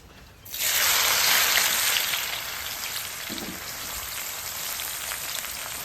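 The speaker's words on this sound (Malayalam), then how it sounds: "അടുത്ത് നമുക്കേ ഉള്ളി വറുത്തെടുക്കാം." Sliced onions for a Thalassery dum biriyani hit hot oil with a sudden loud hiss, then settle into a steady, dense sizzle close by, with no talking over it.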